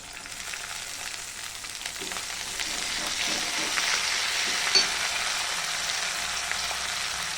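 Coriander leaves tossed into a hot pan for a Maharashtrian leftover-chapati upma, the frying sizzle loud and steady throughout with soft stirring scrapes and a brief clink near the end.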